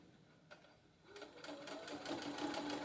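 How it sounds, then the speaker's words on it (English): Sewing machine stitching fabric while sewing a pillow cover, quiet at first, then a close, steady rapid mechanical whirring that builds in loudness. "then I'm going to start sewing"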